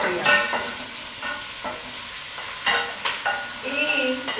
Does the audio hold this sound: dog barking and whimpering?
no